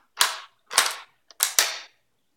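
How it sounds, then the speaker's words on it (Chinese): Four sharp metallic clacks from the bolt of a Yugoslav Mauser M24/52c rifle cycling to chamber a round, the last two close together, loud and near with silence between. "首先它的这个栓动的 上膛的时候非常的润滑，感觉非常的流畅"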